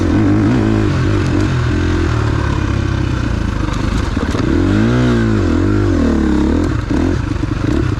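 A 2021 KTM 350 XC-F dirt bike engine runs loud and close with a rough, clattering idle, then dips as it nearly stalls and revs back up in several rising and falling pulls.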